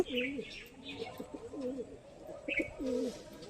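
A golden pigeon coos in repeated soft, throaty phrases close by, a rolling series of low calls with brief pauses between them, alongside a few higher chirps.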